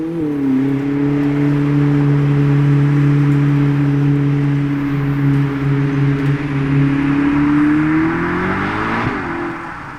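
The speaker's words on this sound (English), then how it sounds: "Watch her go! SF90 Spider Assetto Fiorano!" A Ferrari SF90 Spider Assetto Fiorano pulls away near Maranello with a sustained, even engine tone that rises in pitch toward the end before dropping off, close and loud, with no talk.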